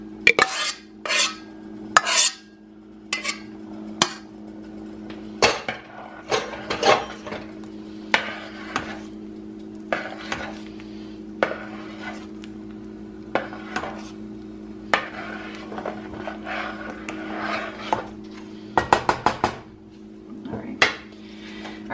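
A spoon scrapes and clanks against a soup pot while a thickening mixture is gently stirred into lower-carb ham and potato soup, giving irregular metallic knocks and clatters, some in quick bursts, over a quiet background hum.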